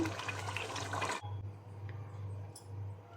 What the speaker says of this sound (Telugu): ఇప్పుడు దీంట్లో నేను ఎసరు వేసుకుంటున్నాను.